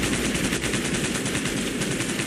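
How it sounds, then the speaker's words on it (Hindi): Dense, continuous gunfire rattles without pause, a loud, rapid machine-gun style volley filling the whole stretch with no voices. "गोलियां चलने लगी।"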